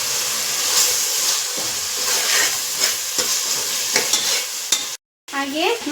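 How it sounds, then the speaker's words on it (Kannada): Onion, tomato, turmeric and masala fry together in a pan with a steady close sizzle, punctuated by scraping stirs and a brief cutoff near the end. "ಎಲ್ಲನೂ ಒಟ್ಟಿಗೆ ಫ್ರೈ ಮಾಡ್ಕೊಳ್ಬಿಡೋದು ಚೆನ್ನಾಗಿ"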